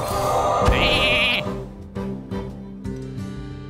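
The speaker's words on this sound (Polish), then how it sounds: "Tego zamieńmy w owce." A sheep bleats loudly and nasally for about a second in Hearthstone: Heroes of Warcraft as a card is turned into a sheep, followed by a few short electronic chimes and tones, with a voice speaking faintly underneath.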